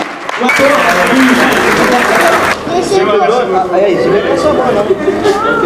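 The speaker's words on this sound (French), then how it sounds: "On applaudit, hein, comme dans les films." Audience applause at an African arts festival event in Quebec, a dense steady wash of clapping with crowd chatter and voices mixed in throughout, loud and close.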